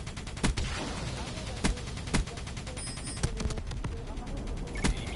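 Gunfire from Black Ops 3 multiplayer on PS4: sharp, loud shots cracking out irregularly, several bursts spread across a dense, busy battle din, with no speech over them.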